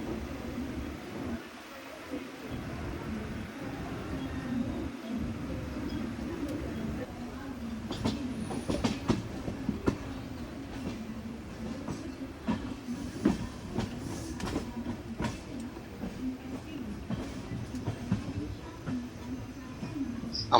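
A train pulls slowly out of Karjat station, rumbling with a steady low drone and scattered clicks and clacks from the wheels on the rails, heard from inside the carriage.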